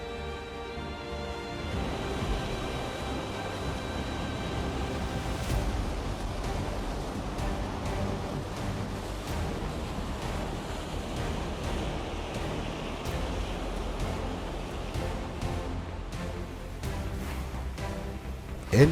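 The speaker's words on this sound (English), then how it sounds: "the captain and divine intervention apparently are taking him through these waves" Rough waves on Lake Superior crash around a boat in a storm, a loud continuous roar of surf and wind that holds steady throughout.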